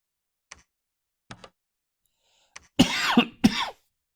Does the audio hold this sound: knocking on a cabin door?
no